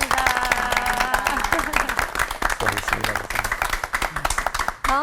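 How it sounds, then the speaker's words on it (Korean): A studio audience applauding three pastors after a televised church lecture, with dense close clapping that swells and then tapers off, and a voice speaking over it. "뜨거운 박수 부탁드리겠습니다"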